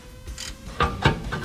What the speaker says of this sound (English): so I'm taking off the brake calipers.